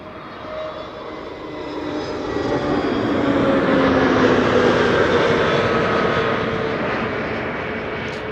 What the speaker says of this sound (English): EasyJet A320neo in the meantime arriving from Geneva